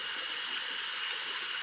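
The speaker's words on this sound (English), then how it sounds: "you want to turn the cold tap water on" Cold water runs steadily from a tap in a rinse for a doll's hair, a continuous bright rushing hiss at an even level with no pauses.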